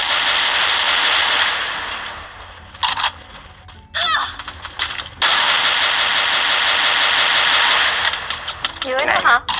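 Gunfire in the Garena Free Fire mobile game comes as long bursts of automatic shots separated by short gaps, loud and close, with a voice speaking in between.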